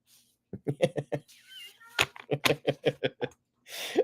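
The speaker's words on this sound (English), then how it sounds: "Man, my cats are vocal right now." House cats meowing insistently, probably for lunch: a rapid run of short, close meows, a brief pause, then another quick string of calls, fairly loud with no talk over them.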